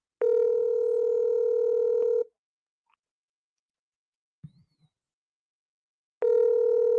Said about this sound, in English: His phone's not dead, it's ringing